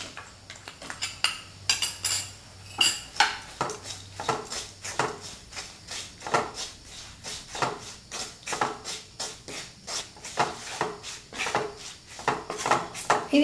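A spoon stirring powdered jaggery into kanthari chili pickle, giving quick repeated metal clinks and scrapes against the vessel in an uneven rhythm, close and with no talk.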